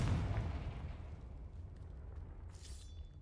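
Confringo explosion spell in a Harry Potter video game, a faint low booming blast that fades into a rumbling decay, with a short brighter crackle near the end.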